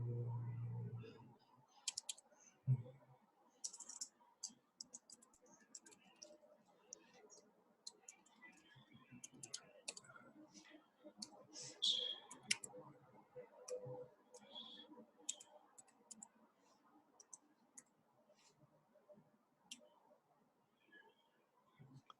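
Soft, irregular clicks of typing on a computer keyboard come in quick bursts with pauses between them, faint and close. A brief low voice is heard at the start.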